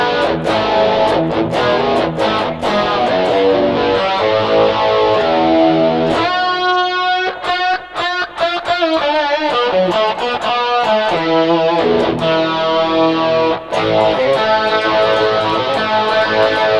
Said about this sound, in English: So that's full distortion on the Rockman.